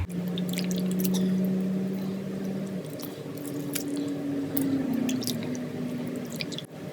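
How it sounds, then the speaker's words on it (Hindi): Pieces of raw meat are rinsed by hand in a bowl of water, with wet squishing, dripping and sloshing close by. A steady low hum runs underneath. "हम इसी तरह सारी बोटियां साफ कर लेंगे"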